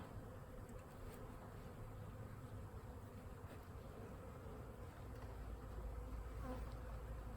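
Honeybees buzz steadily in a dense, soft drone, many insects humming together close by as they leave an overturned hive part, with no talking.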